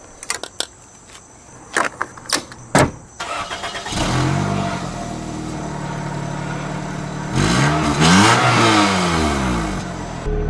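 A car engine running on a gas tank dosed with Prestone DOT4 brake fluid: a few clicks and knocks, then it cranks, catches and revs loudly with rising and falling pitch before settling into a steady run.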